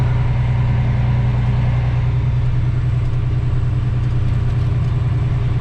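A loaded Caterpillar-engined truck rolling down a dirt path, a loud, steady low engine drone and rumble filling the cab without letup.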